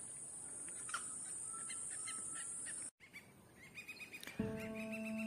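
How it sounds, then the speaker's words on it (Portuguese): Various birds calling in the Pantanal wetland, scattered chirps and tweets over a steady high insect drone, faint and distant, with a brief drop-out and a louder call near the end. "vários pássaros"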